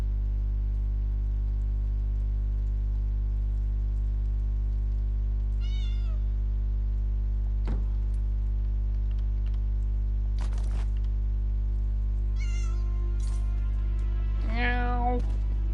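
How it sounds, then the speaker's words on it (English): A cat meows a few times in the video game Elder Scrolls Online, short rising calls over a steady loud low hum, the last meow clearest and nearest. "There's the cat."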